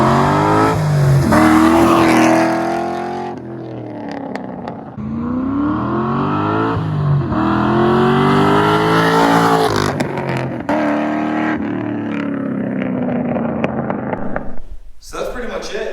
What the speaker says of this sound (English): That is what a drift car should sound like.